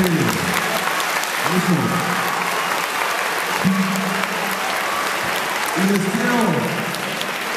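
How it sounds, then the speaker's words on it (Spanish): A school audience applauds steadily at a technical secondary school's end-of-year graduation ceremony, with a voice speaking over the clapping throughout. "Aplaudan de frente."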